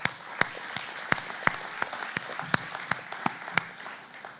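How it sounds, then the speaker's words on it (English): Applause from a congress public session audience, a steady patter of clapping with a few loud, sharp claps standing out close by at irregular intervals. "Let's give them a round of applause"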